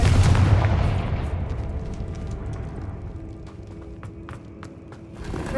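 A Confringo blasting spell explodes in Hogwarts Legacy, a heavy booming blast at the start that slowly fades into a long rumbling tail with scattered faint crackles.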